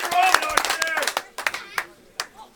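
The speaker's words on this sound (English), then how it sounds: "Crowd showing their appreciation to Pierre Mudim" Crowd at a football match between Coventry United and Walsall Wood applauding in scattered, fading claps, fairly close, under a commentator's voice.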